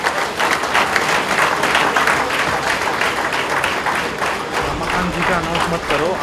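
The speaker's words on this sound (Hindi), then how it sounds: "तालियां बजाओ जोरदार।" Loud, dense applause from a crowd at a gathering, sustained clapping filling the whole stretch with a faint voice surfacing near the end.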